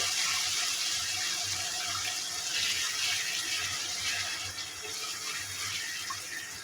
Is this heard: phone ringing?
no